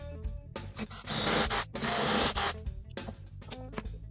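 Drilling holes in wood with a drill guide gives a close, loud whirring rasp in two main bursts of about half a second each, with short quieter buzzes and taps around them and no talk.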